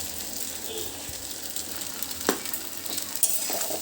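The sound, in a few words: chowmein with capsicum stir-frying in a pan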